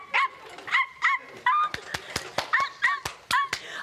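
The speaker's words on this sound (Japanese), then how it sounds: "あー、可愛いワンちゃんだ。" A small dog barks in quick, high-pitched yips, close and loud, mixed with a run of sharp rapid taps or clicks, with brief pauses between bursts across a Japanese TV variety special.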